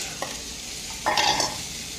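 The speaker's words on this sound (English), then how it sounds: "Take some onions, sweat the onions out, a little garlic, some red peppers" Onions, garlic and red peppers sizzle in a pan under a steady hiss, with a brief clatter of stirring near the middle of the short moment.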